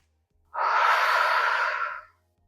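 A single slow, close breath exhaled through the mouth, a soft airy rush lasting about a second and a half against near silence.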